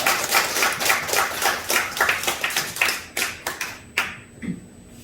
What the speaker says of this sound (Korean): 박수로 한번 더 격려해 주시겠습니다